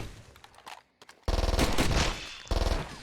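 Enemy gunfire in Far Cry 2 erupts as loud, rapid automatic bursts after a few quieter scattered shots, with a brief pause before another burst resumes.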